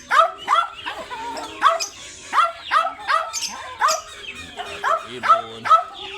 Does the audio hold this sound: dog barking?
yes